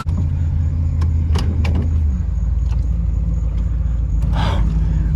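An old ramp truck, only just running again, rolls under its own power with a steady low engine rumble held throughout, with scattered clicks and rattles and a short hiss near the end, close and loud.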